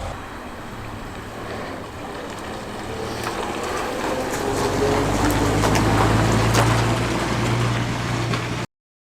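A Ford Anglia car's engine drones steadily on a short drive, with a low hum that swells in the middle under rushing wind noise and then cuts off abruptly.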